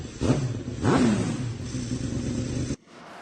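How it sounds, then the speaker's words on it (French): An electric pit bike runs on an indoor track, giving a loud whirring drone with two rising whines early on, then cutting off abruptly to a quieter hum near the end. "Ce sont les premières images que j'ai jamais filmées en conduisant une moto sur un circuit, debout sur la piste."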